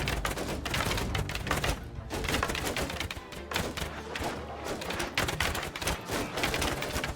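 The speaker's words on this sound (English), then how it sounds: "I still hear a lot of shields clattering and bowstrings stringing" A Mount & Blade 2 Bannerlord battle rages with a dense, continuous clatter of shields and sharp thwacks of bowstrings and arrows, loud and unbroken throughout.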